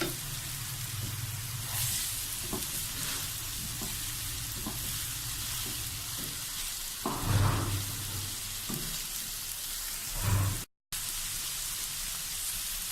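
Cabbage and capsicum sizzle steadily in a hot pan for chicken chow mein, a close, continuous frying hiss broken by a few louder stirring scrapes and clatters.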